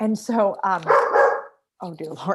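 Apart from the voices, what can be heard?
dog barking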